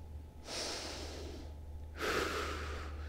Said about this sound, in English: So we're looking for that rib cage breathing now.